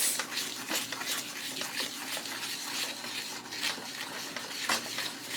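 A spoon scrapes and stirs a granulated sugar mixture in a pot over high heat, steady soft scraping strokes with faint bubbling, close and fairly quiet.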